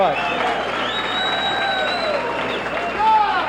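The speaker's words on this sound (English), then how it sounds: "This deer is getting a lot of applause." A banquet crowd at a hunters' presentation applauds a 15-point trophy deer, sustained clapping from many hands with a steady hubbub of voices mixed in.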